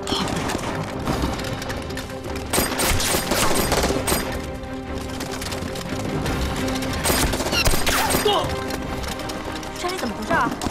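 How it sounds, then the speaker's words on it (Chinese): Dense, rapid gunfire echoes through the mountains in a wartime anti-Japanese drama, a steady barrage of cracks and bursts running beneath people talking. "打猎不会枪声这么密集"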